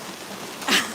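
Rain falls steadily on a street in the Chughureti neighborhood of Tbilisi, a soft continuous hiss that swells briefly near the end.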